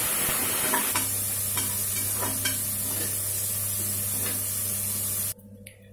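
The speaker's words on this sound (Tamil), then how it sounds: "சேர்த்து நல்லா வதக்கி விடுங்க" Steady, close sizzling of shallots frying in hot oil for country chicken gravy, with occasional stirring scrapes, cutting off abruptly just before the end.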